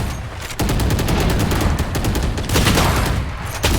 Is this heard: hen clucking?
no